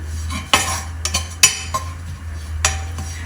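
A metal spoon stirs garam masala and coriander powder in a pan, producing a handful of scattered scrapes and light clinks over a low steady hum, close by.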